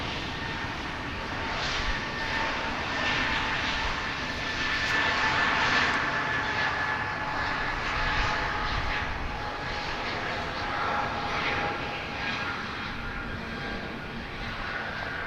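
Frontier Airlines jet departing Dallas Fort Worth Airport: a sustained, rumbling engine roar with a whining tone, steady and fairly close, gently rising and falling over about fifteen seconds without talk.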